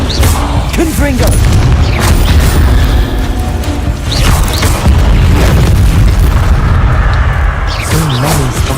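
Repeated explosive spell blasts from the video game Hogwarts Legacy, loud booms and crashing debris in a dense, continuous din, layered with magical whooshes and a voice speaking over the action.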